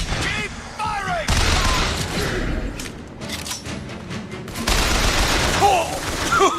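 Gunfire in the shooter game Bioshock Infinite, dense bursts of shots, booms and thuds in rapid succession, loud and continuous, with shouted voices over the battle.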